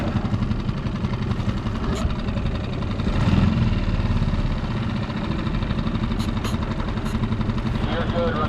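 A solo skiff's outboard engine runs steadily at around 10 knots on the water off La Jolla, a constant mid-pitched drone with a slight swell in the middle and faint higher noises on top.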